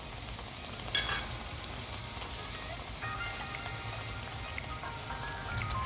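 Neypathiri frying in hot oil over a high flame, a steady close sizzle and crackle with a few brief clinks and stirring noises, no voices.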